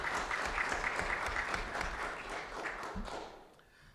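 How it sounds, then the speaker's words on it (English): Audience applause at a Kentucky Black Legislative Caucus speaker series event, steady dense clapping from a crowd that gradually thins and fades toward the end. "If you give him a round of applause,"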